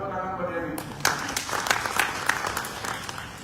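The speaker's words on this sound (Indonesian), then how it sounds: "Luar biasa, tepuk tangan pada ini." Applause from an audience at a regional government ceremony in Badung, Bali, where senior officials are sworn in. The clapping begins abruptly after a brief pause, then continues as a steady, moderately loud patter with a few sharper claps standing out.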